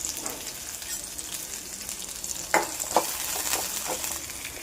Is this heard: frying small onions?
yes